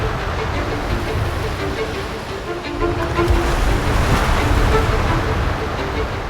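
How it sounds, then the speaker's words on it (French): Ocean waves surge and break against the foot of Mont Rose, a steady, loud, continuous roar of surf with rumbling low wash throughout and no voices. "Les vagues éclatent à ses pieds et projettent des milliers de gouttes d'eau salée sur ses flancs."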